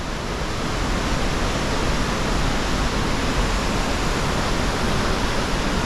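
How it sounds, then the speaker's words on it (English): A waterfall on the Miller River, a loud, steady, even rush of falling water that fills the whole scene without a break. "So there's the first of our waterfalls"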